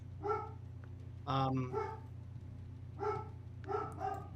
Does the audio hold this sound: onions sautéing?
no